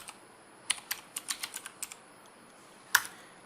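Someone types on a computer keyboard with a quick run of light, close key clicks and a single louder keystroke after a brief pause, with no voices.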